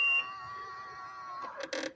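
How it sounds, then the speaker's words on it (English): An Alfa Romeo Spider or Brera (939) alarm system chirps on remote locking: a long steady electronic tone followed by a second short pair of beeps, close and clear with no talk. "That second signal, that second beep, means that the intruder sensors, those volumetric sensors on top of the car, are not working"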